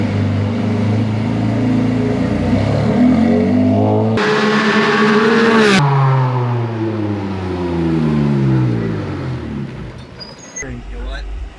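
A loud Porsche Cayman GT4 RS Clubsport race car engine revs and climbs through the gears up close on track, with rising and falling pitch as it accelerates.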